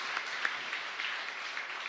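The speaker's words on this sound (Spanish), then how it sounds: "Bueno, un fuerte aplauso para María Montserrat." Faint, brief applause from a church congregation during a Mass in Laguna Grande, San Lorenzo: a soft, scattered patter of clapping heard at a distance.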